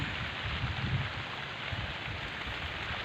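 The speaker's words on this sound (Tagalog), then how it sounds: "hanggang ngayon ay umuulan pa rin" Steady, dense rainfall hissing continuously over farm fields after a typhoon, with a soft low rumble underneath and no voices.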